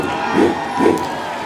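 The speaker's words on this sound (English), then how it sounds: "The cheer from the crowd" Crowd at a Monster Power 2018 monster truck event in Sarver, Pennsylvania, cheering in two swelling bursts over a droning background, distant and broad rather than close.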